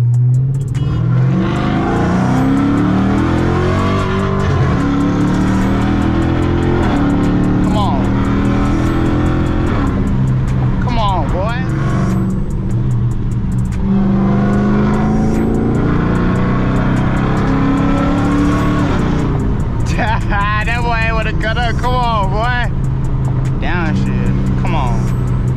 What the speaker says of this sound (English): these downshifts crucial